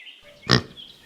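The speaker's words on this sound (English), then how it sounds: "piglet" A piglet gives a single short, loud oink, alone against faint background noise.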